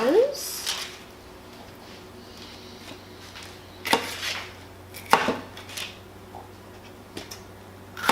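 A knife slices through mango for salsa in a kitchen, giving several quiet, sharp cuts spaced apart, with a voice talking in between.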